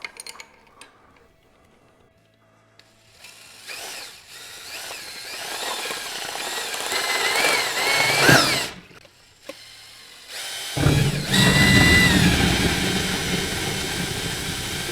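A handheld power drill whirs in bursts as it stirs a batch of mead, starting faint and building to loud, sustained mixing with brief pauses and a strong second run.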